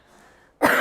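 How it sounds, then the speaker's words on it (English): A woman gives one sharp, loud cough right after a quiet stretch, the burst close and abrupt. "That was a real cough."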